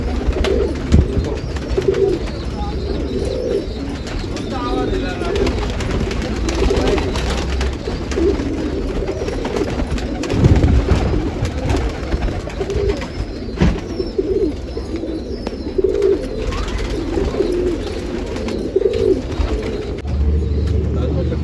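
Kalpat pigeons, a desi breed kept in Nashik, Maharashtra, coo softly and steadily throughout. Their rolling calls repeat over a low background rumble, with occasional faint chirps.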